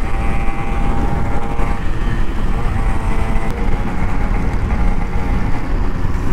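A two-stroke RX 135 motorcycle engine runs loud and close, with a steady, raspy buzz that holds the whole time.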